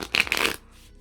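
A quick burst of tarot cards riffling and snapping together, close and brief, followed by a soft settling rustle.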